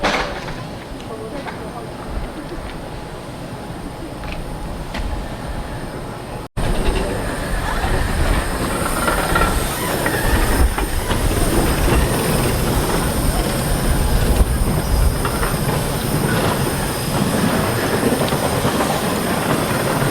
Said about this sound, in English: there goes the steam train straight up to the Snowdon Peak.